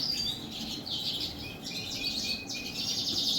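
Caged young and overyear birds chirping in a breeding room during the moulting period, a steady chatter of high, overlapping tweets and short calls from several birds close by, with no talking.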